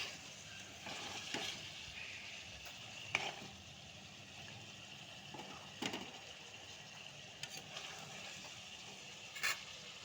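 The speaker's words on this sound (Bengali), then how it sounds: "আমি চিকেনটাকে এখন একটু ভালো করে কষিয়ে নেব।" Chicken sautés in a pan for pressure cooker biryani, a steady low sizzle under scattered clicks and scrapes of the spoon against the pot, with no talking.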